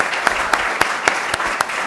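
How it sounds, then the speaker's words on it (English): A panel discussion audience gives a round of applause in a community conversation on police and Black lives, a steady wash of clapping with a few sharper claps standing out, held at an even level with no voices. "let's give our panelists a round of applause"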